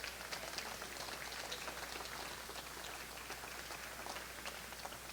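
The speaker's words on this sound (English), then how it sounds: "Nice round of applause for that" Steady, fairly faint applause from a crowd at an airport announcement of a new airline and international route, a continuous patter of clapping with no voices over it.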